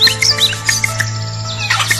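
A woodpecker storing nuts in a tree hole gives a run of sharp, high chirps and short calls. A steady low hum runs underneath.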